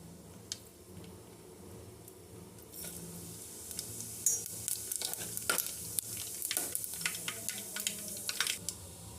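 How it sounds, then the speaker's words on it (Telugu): Mustard seeds and cumin crackle in hot oil for upma, a quiet steady sizzle that builds into scattered sharp pops and spits over the latter half, close by with no talk. "ఆయిల్ హీట్ అయిపోయిందండి, ఆవాలు, జీలకర్ర వేసుకుందాము."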